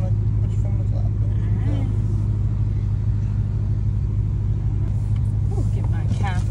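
A manual Dodge Challenger Widebody Hellcat slowing to a stop, heard from inside as a deep, steady engine rumble that fills the cabin, with voices talking faintly over it.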